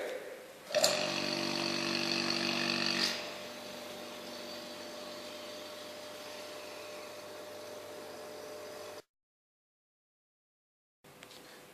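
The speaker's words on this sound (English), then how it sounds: "the next step is to use the vacuum pump to extract the air" A vacuum pump extracting air from a soil-water mixture in a flask: a steady mechanical motor hum drones for several seconds after a brief louder start, then cuts out; a short burst resumes at the end.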